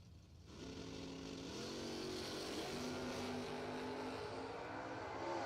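Drag racing at a strip, with a 68 Camaro among the cars: a sustained, rising engine roar with shifting harmonic tones, building in loudness and holding steady for several seconds with no talk.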